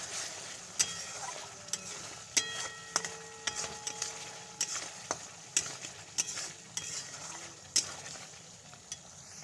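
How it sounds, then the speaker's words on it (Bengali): Garam masala powder is stirred into spices frying in oil, with a soft continuous sizzle under repeated scraping strokes of a spoon against the pan, close and fairly quiet. "গরম মশলার গুঁড়ো দিয়ে একটু নাড়িয়ে নেব।"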